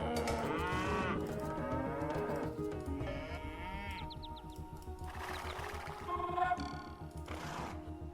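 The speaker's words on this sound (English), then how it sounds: "Speak of the moo-moos." Cow mooing in Age of Empires II, several drawn-out moos and bleating livestock calls following one another over a few seconds, fairly clear above the game's background sounds.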